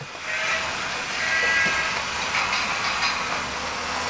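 A small electric motor whirs and hums steadily, with light mechanical rattling of an Adventure Force Adventure Railway toy train running on its track; no one speaks.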